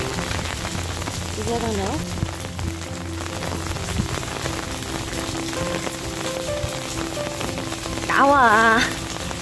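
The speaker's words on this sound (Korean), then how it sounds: "비 좀 덜 오는데?" Steady rain falling on a rainy day, an even wash of drops on surfaces that runs the whole time while people talk over it and a voice rises near the end.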